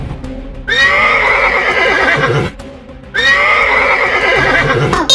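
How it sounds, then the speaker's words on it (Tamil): A horse gives two loud, close whinnies, each a long shrill neigh that trails off, separated by a brief pause, with faint hoof movement beneath. "குதிரை ரொம்ப சிம்புது அபி"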